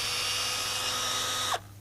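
A power drill with a 1/8 inch bit bores into metal roofing for a new standing seam on a tiny house. The steady high whine is close and loud, then it cuts off with a quick falling pitch as the motor spins down.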